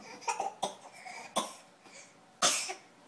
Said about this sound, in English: That might be a real cough.